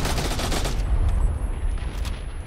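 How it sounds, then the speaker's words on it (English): Rapid bursts of video game gunfire crackle loudly and continuously, with dense automatic fire dominating the first second before settling into steady, slightly softer shooting throughout. "I'm getting shot at."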